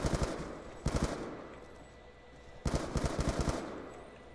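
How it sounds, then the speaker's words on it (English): Galil assault rifle firing in the video game Black Ops 2, heard as two short bursts of rapid automatic gunfire, fairly loud, with ringing decay in the gap between bursts. "The Galil's my favorite gun in the game."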